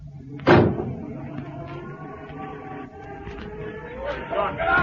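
A car door slams shut with one loud, heavy thud early on in a 1957 BBC radio drama, followed by a steady rumble and voices.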